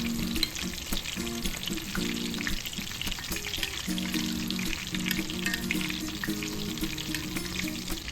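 Breaded pork chop Milanese frying in oil, a constant crackling sizzle close by with bursts of spattering as hot oil is spooned over it, no voices.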